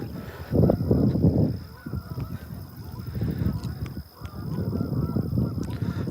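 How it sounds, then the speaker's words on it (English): A flock of geese honks loudly and repeatedly in the open outdoors beside fishing water, the calls overlapping in dense bursts throughout, with no talking. "There's actually 2 over there. Are geese called flocks? Are they flocks of geese?"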